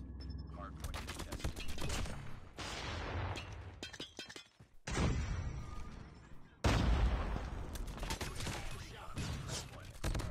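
Gunfire from a 3-tap gun in COD Mobile comes in loud, dense bursts of rapid shots, broken by short pauses, with a muffled voice faintly under the shooting.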